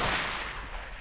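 A single loud, close gunshot with a broad, booming burst that decays over about a second, fired in the Half-Life 2 mod game Underhell.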